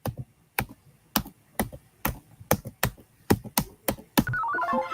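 About a dozen sharp, separate clicks of a computer keyboard being typed on, unevenly spaced. A short electronic tone sounds at the very end.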